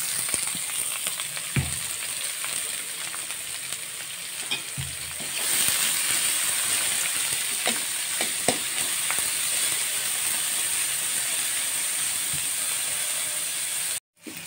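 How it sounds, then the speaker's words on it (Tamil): Curry leaves, green chillies and chopped shallots sauté in hot oil for kuzhi paniyaram chutney, a continuous close sizzle that swells louder partway through, with occasional clinks of a spoon stirring the pan. "கருகப்பிலை பொரிஞ்சிட்டு பச்சை மிளகாய் பொடியாக வெட்டி வச்சுருக்கிற சின்ன வெங்காயம் போட்டு வதக்கிக்கலாம்"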